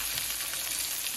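Salisbury steak patties dusted in flour sizzle steadily in a frying pan just after being flipped, a dense, even crackling hiss close up with no voices.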